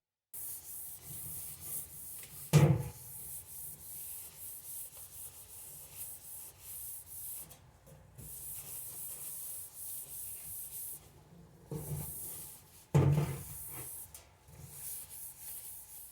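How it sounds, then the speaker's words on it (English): Aerosol paint is sprayed onto a new sheet-metal patch for a Studebaker Hawk door in long, steady hissing bursts separated by brief pauses, close and moderately loud, with a few clunks. "I'm going to clean this up and prepare it just to put a quick coat of paint on it"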